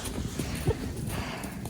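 A horse walking, its hooves giving a few soft, uneven clip-clops close by over low background noise.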